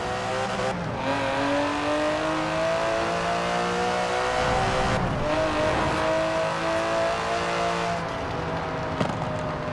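An Aston Martin DB11 (2017) in Forza Horizon 4 revs its engine repeatedly in rising and falling sweeps, with sharp exhaust pops and crackles between revs and a brief tire squeal, loud and continuous.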